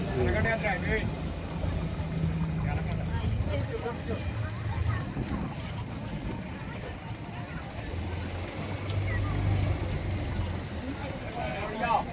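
A boat at a boat jetty rumbles with a low, steady engine drone under continual nearby talking and some wind buffeting the microphone.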